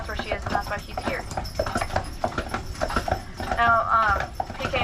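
Hooves of a pair of draft horses clip-clop steadily while pulling a carriage through a limestone quarry on Mackinac Island, close and rhythmic, with a voice talking over the hoofbeats.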